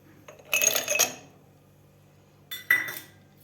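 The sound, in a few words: ice added to glass of cumin sherbet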